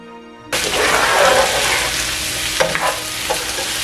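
Loud sizzling of beans and cut vegetables sautéing in a pan for vegetable chop suey, bursting in suddenly and continuing steadily with a few stirring scrapes near the end.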